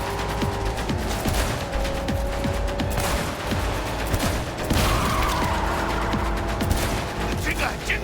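Rapid bursts of gunfire and mechanical weapon clatter from the video game Cyberpunk 2077, loud and sustained throughout with dense repeated shots, alongside a steady game music bed and voices talking over it.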